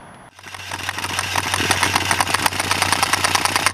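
An air compressor kicks on in a home garage during motorcycle chain work on a Yamaha TRX850, a close, loud, steady motor hum with a rapid rattling pulse that builds after a brief quiet start.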